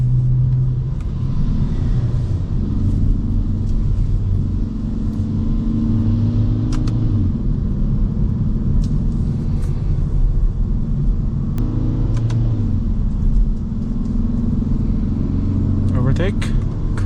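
A Kia Forte GT engine drones steadily from inside the cabin as gears change through the paddle shifters, with a constant low rumble and slight pitch shifts under ongoing talk.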